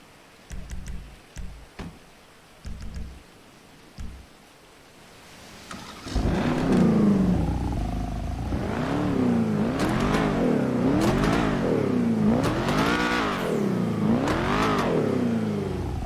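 Lampadati Corsita supercar in a video game, a few quiet clicks and thumps, then the engine fires up and revs repeatedly, loud rising and falling sweeps of throttle close by with a steady idle between.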